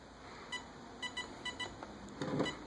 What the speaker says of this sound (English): Now it's going to go beep, beep, beep, beep, which is setting to option two